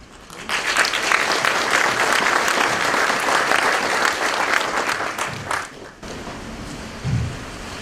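An audience at an Asian American Pacific Islander Heritage Month event applauds to welcome a guest speaker, a dense, steady clapping that lasts about five seconds, then fades and stops abruptly.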